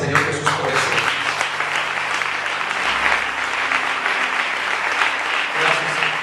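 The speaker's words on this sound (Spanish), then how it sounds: "Da un aplauso al Señor Jesús por eso." A church congregation applauds during a sermon, with steady, dense clapping from many hands close by, lasting several seconds over scattered voices and an undertone of music.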